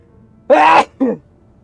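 A person sneezes close by in two loud bursts, a long forceful blast followed by a shorter, weaker second one.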